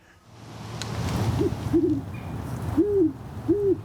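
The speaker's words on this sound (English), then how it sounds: "Owls are really special birds." Several low owl hoots sound over a steady low background hum, spaced irregularly with short gaps, moderately close and clear.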